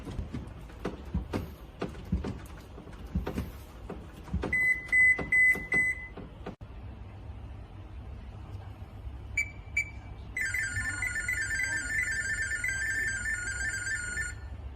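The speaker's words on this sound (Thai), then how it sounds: "เสียงจะดังขึ้นภายใน 8 วินาทีนะครับ เสียงสมาร์ทเดสิตนะครับ" Smart Diagnosis data tones from a refrigerator, held up to a phone: a short run of steady electronic beeps, then a longer dense warbling burst of rapid tones, clear over low background rumble.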